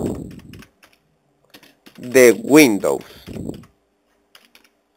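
Keys on a Windows computer keyboard are tapped to type a word into the Start search box: a few quick, light clicks sit between and under a man's nearby speech.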